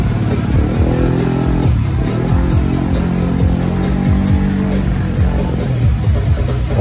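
A motorcycle engine at a dragbike race event revs steadily and loudly close by, with rising and falling pitch sweeps over a constant dense mechanical roar and no voices.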